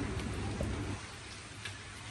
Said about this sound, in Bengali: এই যে আজকে সকাল সকাল থেকে বৃষ্টি শুরু হয়েছে